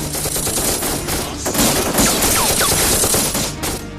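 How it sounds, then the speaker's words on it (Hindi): Heavy gunfire in a war film scene comes as a loud, dense, continuous fusillade of rapid shots that fills the whole stretch with no pause. "वहाँ से बहुत हैवी फायरिंग हो रही है।"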